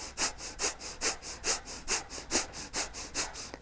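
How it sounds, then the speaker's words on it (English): Rapid, rhythmic breath-of-fire yoga breathing, a steady train of sharp, forceful nasal exhales close to the mic, about three per second, with no talking. "This is the last in the series, the ego eradicator with breath of fire."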